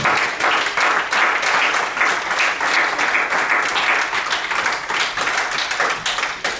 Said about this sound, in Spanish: Denle un aplauso al Señor con todo el corazón.